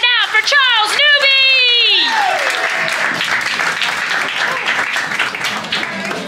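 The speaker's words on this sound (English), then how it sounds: "Everybody start clapping right now for Charles Newby!" Comedy club audience applauding a comedian at Laughing Skull in Atlanta, dense steady clapping that sets in after a shouted, pitched voice at the start and carries on loudly throughout.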